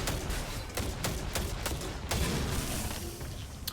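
Rapid gunfire from a weapon in the Destiny 2 video game, a fast volley of sharp shots over dense continuous battle noise, loud and close throughout.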